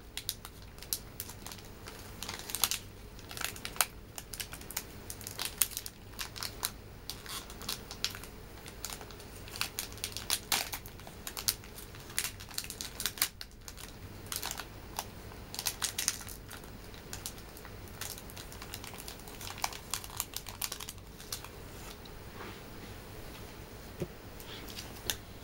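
Foil wrappers of 2014 and 2015 Topps Series 1 baseball card rack packs being torn and peeled open, a steady run of close, quiet crinkling and ripping with small clicks and handling noises, no voices.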